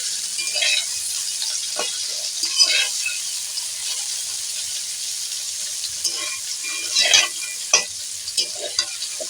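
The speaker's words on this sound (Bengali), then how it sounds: "তো এইভাবে কপিগুলো ভেজে নেব" Cauliflower florets fry in a pan while being stirred, a steady soft sizzle with intermittent scraping and clinking from the spoon, close and moderately loud with no talking.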